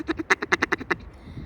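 A duck call blown to imitate a mallard hen, giving a descending run of about eight quick, nasal quacks that taper off, close and alone.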